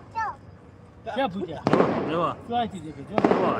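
Several sharp firecracker bangs burst at irregular intervals, loud and close, at a wedding celebration while people talk and call out in between.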